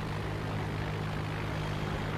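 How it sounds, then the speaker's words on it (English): A drone flies in a video game, giving a dense, continuous buzzing engine drone with a low hum, steady and loud throughout without talk. "He's flying the drone."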